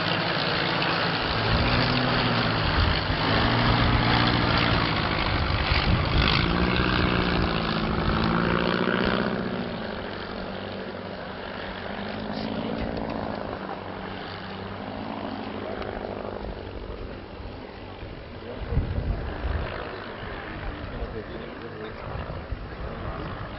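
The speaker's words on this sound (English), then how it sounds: "Thus, the lead aircraft is the unique machine in the formation, the sole surviving de Havilland DH-51." De Havilland DH-51 and DH-87 biplanes fly in formation at Old Warden, their propeller engines droning and wavering in pitch as they pass, with a voice talking over the noise throughout.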